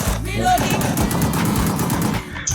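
Rapid video-game gunfire crackles in bursts, loud and close, over a muffled voice-chat background.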